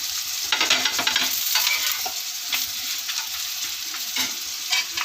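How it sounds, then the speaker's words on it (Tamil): Ginger garlic paste sautés with onions in a hot pan for chicken curry, with a bright steady sizzle broken by repeated close stirring scrapes. "நல்லா இஞ்சி பூண்டு பேஸ்ட் நல்லா வதங்கட்டும்"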